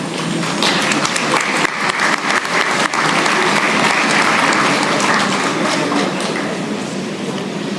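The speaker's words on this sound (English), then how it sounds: "A round of applause for Lady Charles and Keisha Alexander." Applause from a large audience at a college graduation ceremony, loud sustained clapping from many hands filling the hall throughout.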